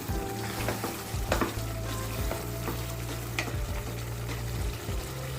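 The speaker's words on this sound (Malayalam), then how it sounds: "ഇതിലേക്ക് കുറച്ച് കടുകും കറിവേപ്പിലയും കൂടി വറുത്തിടാം." Steady crackling sizzle of mustard seeds and curry leaves frying in hot coconut oil, with a few sharp pops and spatters throughout, close and fairly loud.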